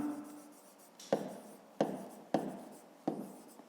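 Pen writing on paper in a maths exercise, with a short scratch followed by four distinct sharp taps or strokes, quiet and close.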